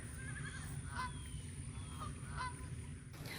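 Several geese honking at a distance from a flock outdoors, a few short calls scattered over a steady background hum.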